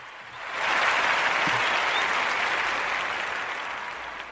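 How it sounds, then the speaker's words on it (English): A crowd claps for the Ujima babies, dense even applause swelling quickly and holding steady before gradually thinning toward the end. "Clap it up for the Ujima babies."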